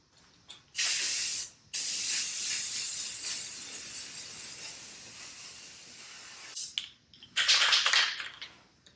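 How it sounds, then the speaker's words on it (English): Several bursts of Rust-Oleum clear aerosol spraying, a long hiss followed by a softer sustained spray and two shorter blasts, close up with no voices. "So I'm just going to spray it with this Rust-Oleum clean."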